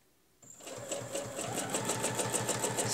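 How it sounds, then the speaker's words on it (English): A sewing machine overstitches a line on fabric, its needle running in a steady, rapid rhythm that starts abruptly after a brief silence and continues close and loud to the end. "Turn, put the crosshairs on, and we're going to overstitch that line there."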